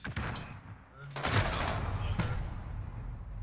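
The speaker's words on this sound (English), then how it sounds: "Where am I getting shot from?" Gunfire in an online shooter game, a few sharp cracking shots and bursts followed by a dense roar of rapid fire, moderately loud, with a player talking over it.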